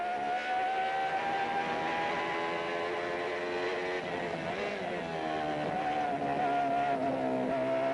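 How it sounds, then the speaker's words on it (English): A Renault V10 engine in a racing car wails at high revs, a loud, sustained tonal scream that drops and climbs again as the driver shifts gears, close and continuous with no talk. "listen to that Renault V10 engine"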